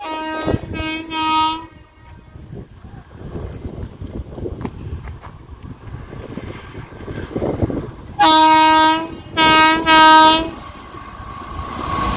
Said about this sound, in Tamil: ஸோ நாகூர் தஞ்சாவூர் வண்டி போகுது பாருங்கள்.